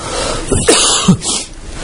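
A voice imitates a sneeze, a wolf's sneeze strong enough to blow down a straw house, given as a short burst of breathy vocal bursts, close and loud.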